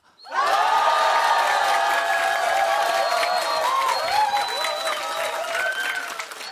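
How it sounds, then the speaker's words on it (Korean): A large crowd at a live public radio broadcast erupts in loud cheering, screams and applause that start abruptly and stay strong, with high shrieks and whoops rising over the roar before it eases slightly. "셋, 둘, 하나 하면 함성 불러주시기 바랍니다"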